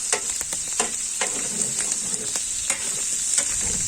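Squid, shrimp and cuttlefish frying in a paella pan over slow heat, giving a steady close sizzle with scattered crackles and pops, no talking.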